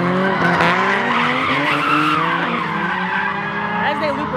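Drift cars sliding past on a race track, tires squealing in long wavering screeches with engine drone, loud and close, steady throughout.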